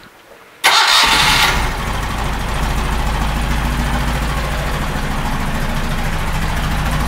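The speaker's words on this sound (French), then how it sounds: "je mets en route le moteur" A car engine cranks and catches with a sharp burst, then settles into a steady, loud idle that runs alone to the end, while a breather (reniflard) is being checked with a homemade testing device.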